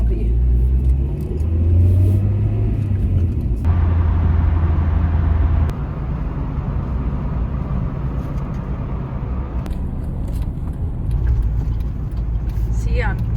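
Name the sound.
stock Nissan 240sx engine hesitating at low RPM in gear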